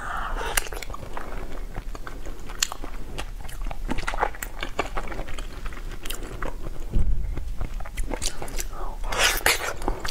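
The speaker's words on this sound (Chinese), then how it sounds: "我先吃一口" McDonald's food bitten and chewed up close to the microphone, a run of crisp crunchy bites and moist chewing, with a soft voice murmuring in between.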